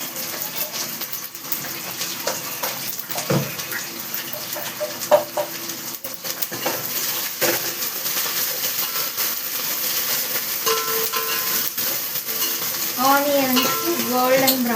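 Onions and curry leaves fry in hot oil in a pot for a chicken dish: a constant sizzle with spoon stirring, scraping and clinks against the pan, close and moderately loud, with occasional brief background sounds.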